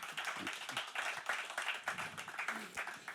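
An audience at a forestry conference session applauds panel speakers, faint scattered clapping with irregular individual hand claps, moderately sparse and somewhat distant.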